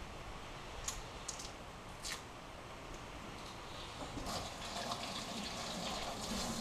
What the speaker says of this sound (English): we're just going to rinse off these green tomatoes.